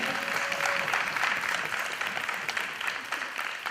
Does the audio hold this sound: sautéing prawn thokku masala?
no